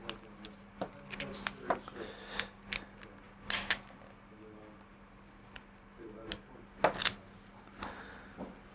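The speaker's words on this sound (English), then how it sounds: "So I'm just going to clean a little bit of this old glue off" Old glue scraped off the rear spoiler gearbox of a Porsche 964 or 993: a run of short, irregular scratchy clicks and taps from a small tool, close up, with a low steady hum underneath.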